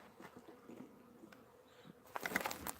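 Honey bees hum faintly around hive frames being handled by a beekeeper during a hive split, a soft continuous drone with light knocks, then a louder rustle of handling near the end.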